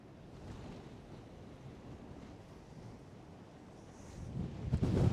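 Coastal wind at Brean Down during sea fishing, a low, steady rumble buffeting the microphone that grows into louder gusts near the end.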